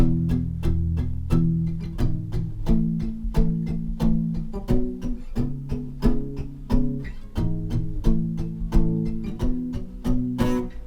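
An acoustic guitar strums a steady chord progression, with regular rhythmic strokes and chord changes every couple of seconds, played alone.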